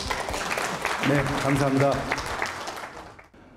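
Audience applause greets a guest lecturer, a Yonsei University public health professor, at a business forum talk on MERS; the clapping is broad and steady, with a voice speaking over it before it fades.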